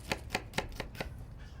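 Knife chopping shallot on a cutting board, five evenly spaced sharp knocks at a steady rhythm, close and clear with no talking.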